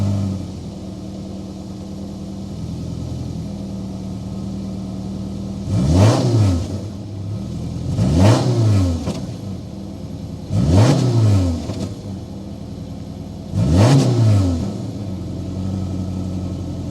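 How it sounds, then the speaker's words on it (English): The 2.0-liter Boxer engine of a 2023 Subaru Crosstrek Premium is started and revved, giving four distinct rising-and-falling blips at a steady rhythm over a low idle rumble, loud and close. "we're going to go inside, start it up so you can hear that exhaust note"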